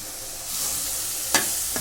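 Soya chunks (meal maker) sizzle in hot oil in a pan with onion, a steady hiss broken by a couple of sharp spoon scrapes near the end, close up.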